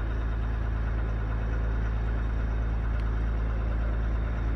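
A 2020 Ram 1500 EcoDiesel with an MRTUNING MM3 tune idles just after starting, giving a steady, low, even engine drone with no talk.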